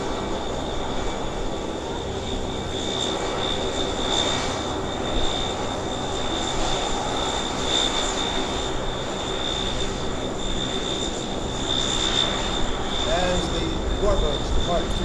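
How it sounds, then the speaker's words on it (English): A C-31 jump ship aircraft of the US Army Golden Knights taxis at an airshow. Its steady engine drone holds from start to finish at a distance, with a public-address voice and crowd noise over it. "That's the C-31 jump ship of your United States Army Golden Knight."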